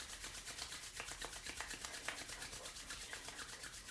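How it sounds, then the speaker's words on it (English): Hands rub briskly together in a quick, even back-and-forth rhythm, a soft close-up swishing friction that repeats steadily throughout, with no talking. "rub your hands together"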